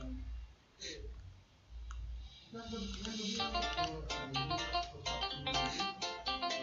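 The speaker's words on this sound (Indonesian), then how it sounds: "kita bisa klik pada kanan mouse" Rapid right-clicks of a computer mouse come in a quick irregular run, sharp and close, over a steady low background hum, after a few isolated clicks early on.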